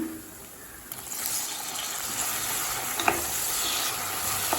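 Tomato sautéing in a pan for a Tamil elephant foot yam kuzhambu, a steady broadband sizzle with a few scraping stirs and small clicks from a spoon, no talking.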